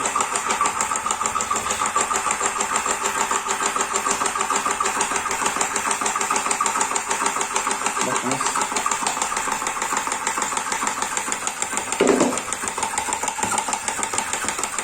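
A tobacco cigarette rolling machine, a cheap model making slim and thick cigarettes and loaded with very damp tobacco, runs a test with a steady mechanical motor drone and whir, close and continuous, with a brief louder clunk near the end.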